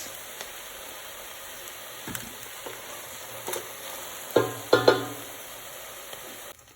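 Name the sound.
mushrooms cooking in a pan before being removed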